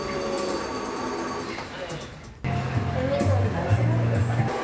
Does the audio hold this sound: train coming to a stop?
yes